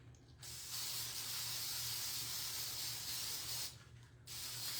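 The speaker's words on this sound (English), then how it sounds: "Mod Podge spray." A Mod Podge spray can releasing a long steady hissing burst, stopping once briefly near the end before spraying again, fairly close and with no speech.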